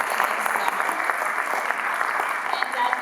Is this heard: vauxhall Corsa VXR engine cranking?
no